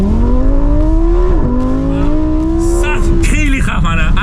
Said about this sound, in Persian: 0 تا 100 لامبورگینی اصلا یه چیز دیگه است